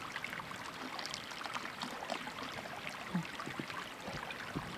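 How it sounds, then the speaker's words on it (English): A mountain waterfall stream flows with a steady broadband rushing and splashing, faint and fairly distant, continuous throughout with no talk. "It's waterfall."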